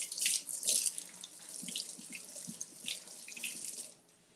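Cucumber washed under a running tap, water splashing and gurgling in a sink with uneven surges before the flow cuts off near the end.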